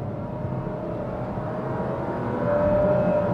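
A 2023 Perodua Axia's small engine revs harder under full-throttle acceleration while tailing a lorry, heard from inside the cabin as a raucous droning hum that swells louder toward the end, with road noise beneath.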